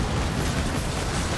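Rapid cannon volley fire from ships in the pirate naval game Skull & Bones, a dense, continuous rumble of overlapping booms and bursts, loud and sustained with no pauses.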